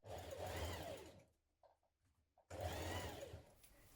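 A domestic sewing machine stitches a jacket sleeve in place, a loud steady motor whir in two bursts split by a short pause with a few faint clicks.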